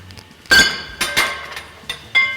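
Sharp metal hammer strikes knocking a wedge out of the die of a Nazel 3B power hammer, about four ringing clanks spaced irregularly, each loud and close with a brief metallic ring, no talking.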